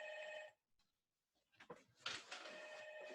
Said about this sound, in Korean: 잠깐만 내 전화가 왔어.